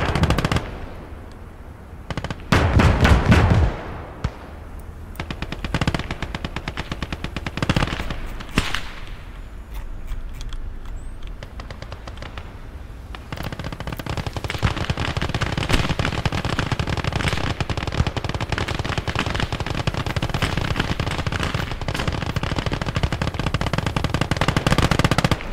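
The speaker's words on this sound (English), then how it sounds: "this guy's getting shot at" Automatic weapons fire in the World War II strategy game Gates of Hell, Germans versus Russians: sharp bursts of machine-gun and rifle shots early on, building into dense, continuous rattling gunfire with distant booms.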